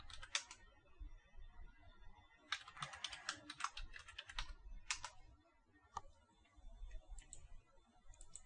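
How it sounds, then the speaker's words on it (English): A password is entered on a computer keyboard in soft bursts of keystroke clicks, with pauses between the quiet, close taps. "I'll just go ahead and enter the password abc123"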